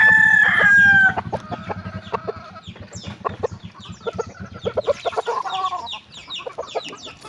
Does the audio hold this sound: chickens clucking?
yes